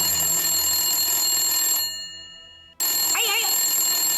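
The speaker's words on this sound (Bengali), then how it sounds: "দাঁড়া তুলবি না। আমার মনে হচ্ছে এটা রুদ্রর ফোন" A mobile phone plays a bright, repeating electronic ringtone in an indoor drama scene. The ringing stops abruptly for about a second, then starts again just as loud.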